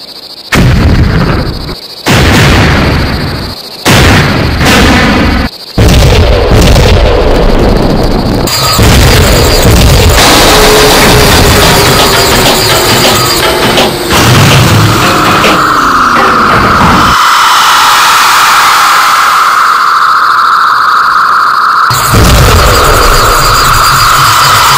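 Artillery guns fire in a staged battle scene, with a run of loud, close booms and blasts that give way to a continuous roar and rumble. No voices.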